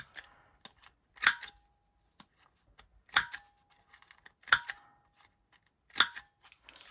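Scissors snip sharply four times, rounding paper corners at an even, unhurried pace, each cut crisp and close, with quiet rustling of paper between.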